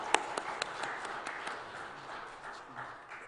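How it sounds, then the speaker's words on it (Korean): A church congregation at Pyeongchang Jeil Church's Sunday worship claps for its church school teachers and youth: steady, dense crowd applause with a few sharper individual claps early on, holding moderately loud before easing slightly, with no talking over it. "우리 힘차게 박수로 격려해 주셨으면 좋겠습니다"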